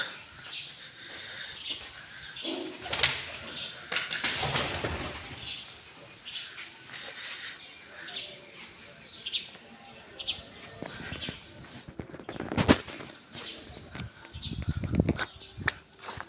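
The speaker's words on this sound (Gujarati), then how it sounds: "કબૂતર ઝઘડો કરતા હતા" Pigeons scuffle close by, with repeated bursts of flapping wings, scrabbling and short chirps and coos rising and falling over a steady background.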